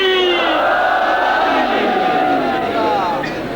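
A large crowd at a religious gathering in Ranipur roars the Naara-e-Haidari slogan together in one long, loud, sustained shout that slowly fades toward the end.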